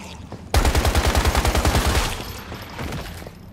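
AK rifle fire in the game Once Human erupts as a loud, rapid burst of automatic shots lasting about a second and a half, then rings out into a fading echo with no talking.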